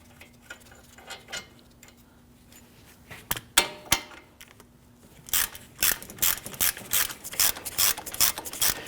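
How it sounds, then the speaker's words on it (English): A socket ratchet clicks in quick bursts while loosening the wheel hub bolts on a 2010-2019 Ford Taurus, sparse at first, then a steady rapid run of close, loud ratcheting with no talk. "With those 2 broken free, I'm now going to put the socket on my ratchet."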